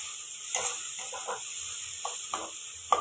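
Onions frying in a pan, a steady close sizzle and hiss with occasional scraping stirs and soft pops, no voices over it.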